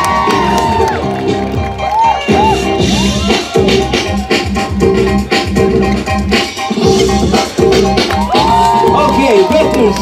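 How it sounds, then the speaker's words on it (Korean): A crowd at the Seoul B-boy Festival on Nodeul Island cheers, whoops and shouts after a breakdance battle, loud and continuous in choppy bursts, with a host's amplified voice breaking through now and then. "박수가 필요합니다"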